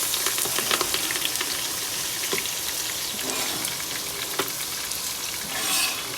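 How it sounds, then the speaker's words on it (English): Onion, garlic, thyme, celery and carrots frying together in hot oil in a pot, a steady close crackling sizzle dotted with spatters and occasional stirring. "I add everything in the pot, and it's gonna fry now"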